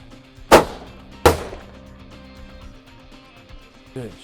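Rifle fire while hunting blackbuck: two sharp, loud reports under a second apart, each ringing briefly, followed by quieter ambient sound and a faint voice at the end.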